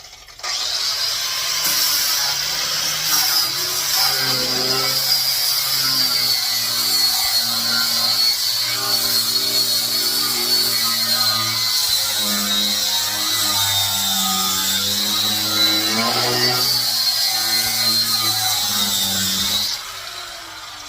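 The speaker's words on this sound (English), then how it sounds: "I'm going to use my angle grinder here" An angle grinder sands a scorched wooden Jesus carving, grinding steadily back and forth in a loud, continuous whine that runs for about twenty seconds before cutting off near the end.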